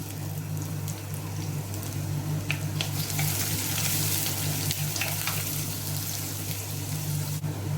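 Chopped ginger frying in a pan, a continuous close sizzle over a steady low hum with faint clicks, no talking.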